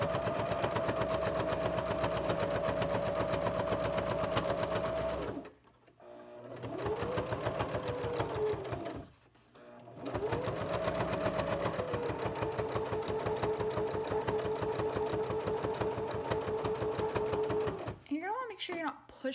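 A sewing machine stitches fabric along the edge of a bib, its close motor whirring in long steady runs broken by two brief pauses, with a short burst of faster stitching at the end.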